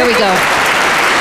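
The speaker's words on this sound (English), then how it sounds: "The crowd goes crazy" Canned applause played from a soundboard button, a loud burst of crowd clapping and cheering with a voice speaking briefly over the start.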